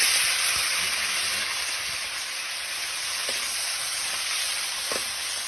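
Food, likely shrimp, frying in hot cooking oil: a steady, loud sizzle and hiss runs throughout with a few faint pops and no talking.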